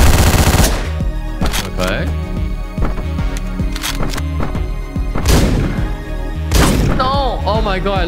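Gunfire from a picked-up gun in Hotline Miami, a burst of loud, sharp shots cracking repeatedly with rapid bursts and single blasts, under game music and a talking voice.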